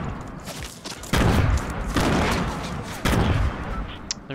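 Video game combat fills the scene with loud bursts of gunfire and heavy booming grenade-like explosions, several blasts rolling over continuous shooting at close range.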